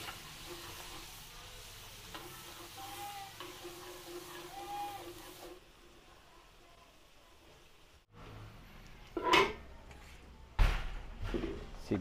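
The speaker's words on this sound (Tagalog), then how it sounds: "Lagyan natin ng margarine. Igisa na tayo. Maglagay tayo ng bawang." Garlic sautéing in margarine in a pan for Filipino cooking gives a soft continuous sizzle, with stirring, clatter and a couple of sharp knocks of utensils later on.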